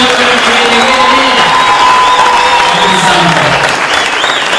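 Audience applauding loudly at a formal university event, a thick sustained burst of clapping with some cheers and whoops, steady from start to finish.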